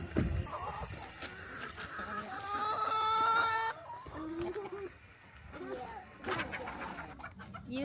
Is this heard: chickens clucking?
yes